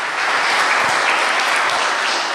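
Congregation applauding during a church service, a dense, even wash of clapping at close range with no pauses.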